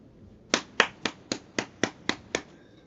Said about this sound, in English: I just have to clap applause for things like that.